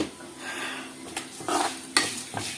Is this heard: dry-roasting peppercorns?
yes